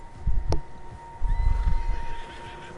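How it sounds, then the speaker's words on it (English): Horses neigh in Red Dead Redemption 2, with one sharp, high whinny early on, then a stretch of low snorting, shuffling and movement that rises and fades. "Horses, quite a few of them."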